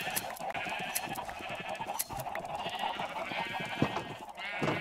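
Several sheep bleat in Minecraft, wavering cries repeating over a steady farm-animal background with no one speaking.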